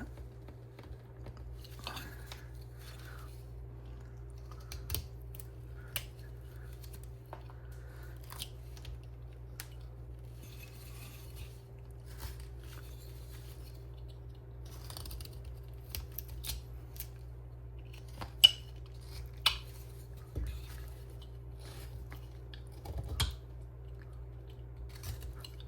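Knife blade making stop cuts and paring into a wooden figure being hand carved, a series of sparse, quiet clicks and scrapes spread over a steady low hum, with no talking.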